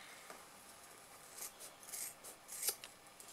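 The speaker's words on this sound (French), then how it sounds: "à l'aide de mes ciseaux" Scissors snipping quilted fabric at the corners of a quilted tablet pouch, a few quiet, close crisp cuts and rasps that grow slightly busier toward the end, with no speech.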